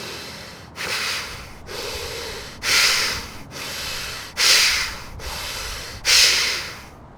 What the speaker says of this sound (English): I'll demonstrate Bhastrika. It looks and sounds like this.